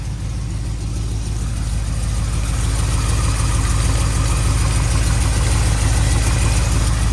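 A 1936 Chevy Coupe engine idles close and loud with a steady low rumble, a faint rapid clicking from a tappet riding on top, and no talking.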